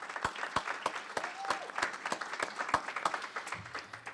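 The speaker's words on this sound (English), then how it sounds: "Let's give another round of applause to Mr." An audience at a Black History celebration in Hoffman Estates claps for Mr. Gibson, a scattered round of distinct, sharp hand claps at a moderate level that thin out toward the end.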